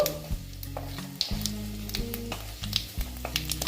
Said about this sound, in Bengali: তেলটা আমার গরম হয়ে গেছে আমি তেজপাতা দিয়ে দিলাম তারপরে দিচ্ছি সাদা জিরে দিয়ে